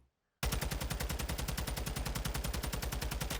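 A TAQ 56 rifle fires in a video game at a 50-meter test range: after a brief silence, one long sustained burst of rapid, evenly spaced automatic shots, loud and close.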